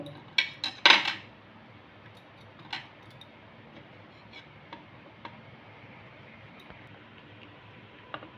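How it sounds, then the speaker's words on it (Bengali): A knife slices through ripe mangoes in a few sharp, close clicks and taps against a board or plate, followed by sparse softer ticks in a quiet kitchen. "আমগুলোকে আমি ছুরি দিয়ে কেটে নিচ্ছি।"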